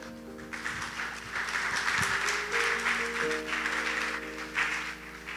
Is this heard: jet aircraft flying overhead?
no